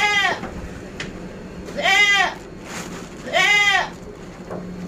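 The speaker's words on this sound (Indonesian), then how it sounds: "Kambingnya berisik dia ngeliat ampas tahu" Goats bleat loudly three times at the sight of tofu dregs, wavering cries spaced a second or so apart, close by over faint background noise.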